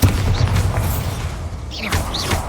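A Bombarda blasting spell goes off in Hogwarts Legacy, a loud burst opening the clip with a rumbling tail, followed by softer magical whooshes and a second thump.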